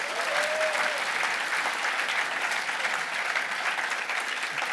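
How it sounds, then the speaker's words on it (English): A conference audience at an international event breaks into sustained applause, a dense, even patter of many hands clapping close by with almost no talk over it. "So big round of applause for those countries."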